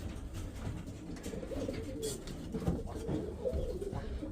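Pigeons coo in low, rolling murmurs, several birds overlapping continuously close by with a steady background hum.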